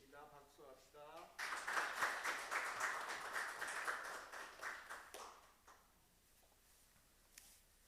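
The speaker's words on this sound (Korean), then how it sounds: "박수합시다" A church congregation breaks into applause at a Sunday worship service, a dense and fairly close wash of many hands that swells, holds for a few seconds, then thins out to scattered claps. A voice speaks briefly just before it starts.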